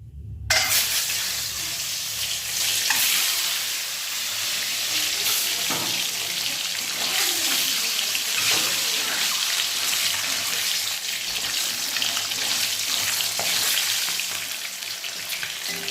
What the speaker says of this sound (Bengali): তেল দেখো গরম হয়ে গেছে, এবার ডিমগুলো ভেজে নেব।